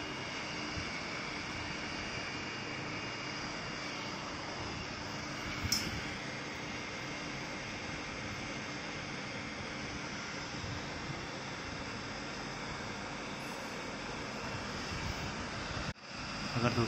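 A small DC 3D printer fan spins fast, close up, with a continuous airy whir. The whir holds steady throughout, apart from a brief tap partway through and a small bump near the end.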